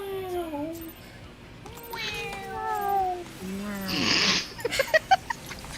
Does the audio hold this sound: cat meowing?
yes